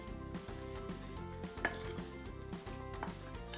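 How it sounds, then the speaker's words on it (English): A spoon mixes a spice blend of salt, red chili powder, black pepper and turmeric in a bowl for moong sprout and banana cutlets, giving repeated soft clinks and scrapes over steady background music. "Let's mix it."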